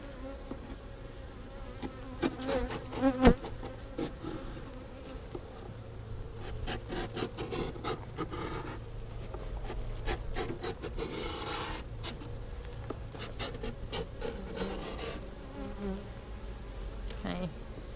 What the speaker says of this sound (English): You want to scrape off some of that side out